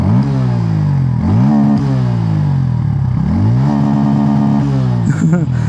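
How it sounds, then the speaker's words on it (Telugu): A motorcycle with an underbelly exhaust and an air-cooled engine is being ridden, its loud, throaty note rising and falling through repeated throttle changes and gear shifts, close and continuous. "ఎగ్జాస్ట్ సౌండ్ వినండి, కొద్దిగా లౌడ్ అయితే వస్తుంది."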